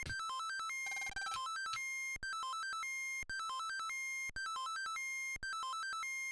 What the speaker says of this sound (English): What an awful ringtone.